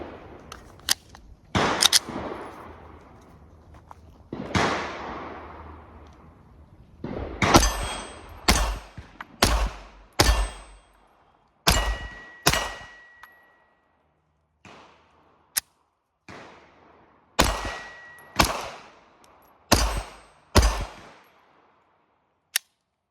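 A .380 Glock pistol on a GlockStore M1X frame fires a long string of sharp, loud shots at an outdoor range, some spaced and some in quick pairs, with short pauses between.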